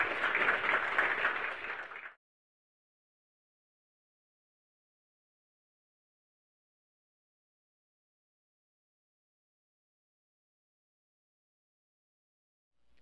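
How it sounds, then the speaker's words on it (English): An audience at a talk on coming off psychiatric drugs applauds a speaker in a short burst of clapping that ends abruptly after about two seconds, followed by long silence. "let's give Anders a round of applause."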